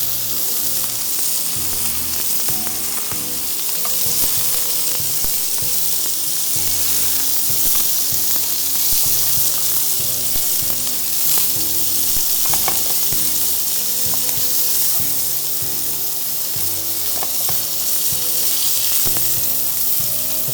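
Meatballs frying in a pan, a loud continuous oily sizzle and crackle held close for the whole stretch, with occasional faint clicks and stirring noises.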